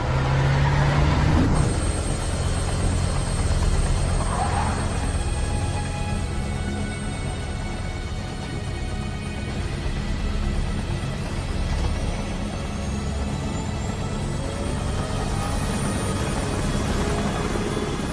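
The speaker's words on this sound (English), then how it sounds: "There you will be loaded on to a big 64-passenger CH-47 Chinook helicopter" A CH-47 Chinook helicopter, a big 64-passenger transport, roars steadily and loudly throughout with a thick low rotor and engine drone that holds without break or speech.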